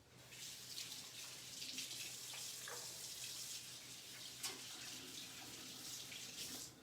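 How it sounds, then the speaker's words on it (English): A kitchen tap runs steadily while hands are washed, a soft even hiss of flowing water with small splashes, fairly quiet and with no talking over it. "let me wash my hands a second"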